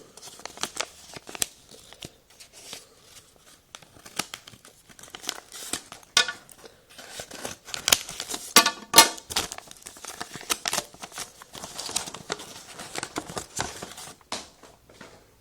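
Crinkling and tearing of plastic packaging being cut open with scissors, with sharp crisp snips and rustles in irregular bursts, close and fairly quiet.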